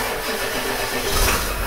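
The diesel engine of a Deuce and a Half military truck cranks and catches, giving a loud, rough, continuous rumble close by that swells slightly near the end.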